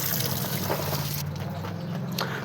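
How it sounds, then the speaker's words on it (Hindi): Water sprayed onto a 9-inch brick wall to soak it before red-sand plastering, a steady broad hiss and splash running continuously and close, over a low hum, with no speech. "और इतना पानी मारेंगे कि दीवार बिल्कुल तर हो जाए"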